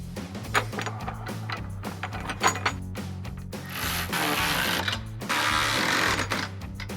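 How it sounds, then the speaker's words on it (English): A 13 mm socket on a ratchet tightens bracket bolts for 6-inch iStep running boards on a 2019-2026 Ford Ranger, with quick rhythmic clicking bursts followed by a longer, rougher grinding rasp, heard close up. "to tighten it down, we're going to use a 13 millimeter socket and a ratchet"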